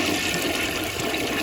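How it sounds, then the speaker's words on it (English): A Rheem Claymore toilet flushes with a loud, continuous rush of water, close and steady throughout the short stretch, with no voices. "I might do some overfilled tank flushes"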